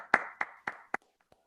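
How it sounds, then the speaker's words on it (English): A few separate hand claps, about four fairly close sharp claps followed by a couple of fainter ones, from a small online audience at a celebration for families of a graduating class. "give a really wonderful round of applause"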